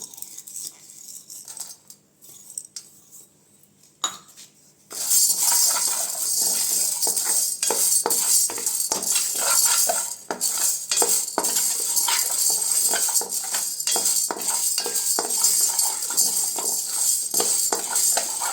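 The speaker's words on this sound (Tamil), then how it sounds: "நல்லா கைவிடாமல் கலர் மாறாமல் வறுத்து எடுத்துக்கோங்க" Raw rice and urad dal are dry-roasted in a pan and stirred continuously. After a few quiet seconds with light clinks, a steady, dense rattling and scraping of grains against metal runs close and loud to the end.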